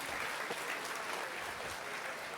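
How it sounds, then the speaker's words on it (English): Steady applause from a livestream audience at a Dead by Daylight anniversary event, faint and even, with no talking over it. "give yourselves a round of applause for that"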